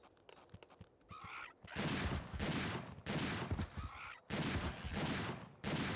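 Repeated loud shotgun blasts in the survival horror game Dino Crisis, about six heavy booming shots at a fairly steady rhythm with brief pauses between, preceded by quieter clicks and game effects.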